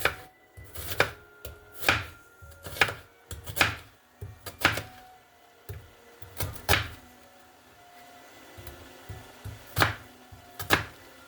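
An onion being chopped with a knife on a board, a series of sharp, irregular knocks close by, some in quick pairs, with short pauses between strokes and no talking.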